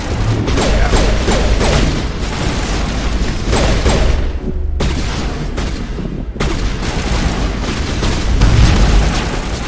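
A detonation booms in the video game Mass Effect Legendary Edition, with loud, dense, rumbling blasts broken by a couple of brief drops, and no talking.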